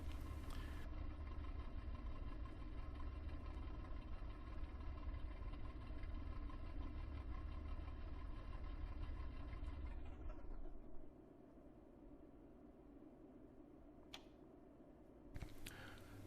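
Aircraft engines in the WWII Online game run with a steady, loud drone after a compression stall, then wind down and cut out about two-thirds through, leaving a quieter hum with a couple of brief clunks.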